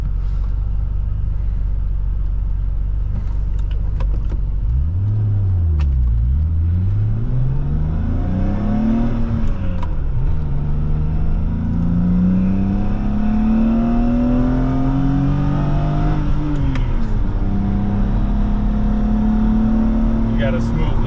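A 1993 BMW M5 E34 engine accelerating hard from speed, a loud, rising drone whose pitch climbs, drops at gear changes, then pulls steadily upward again beneath cabin talk.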